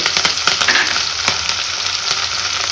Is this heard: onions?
yes